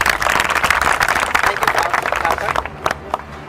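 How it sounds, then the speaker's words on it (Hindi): A classroom of students claps their hands in a loud, uneven burst of overlapping claps, while voices talk over it. The clapping thins out toward the end. "ताली बजाओ।"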